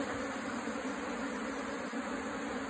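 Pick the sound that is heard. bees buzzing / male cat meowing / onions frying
bees buzzing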